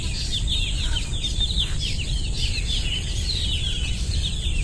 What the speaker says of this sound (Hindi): पेड़ वगैरह, तो उसकी जो साउंड, चिड़िया का साउंड सुन सकते हैं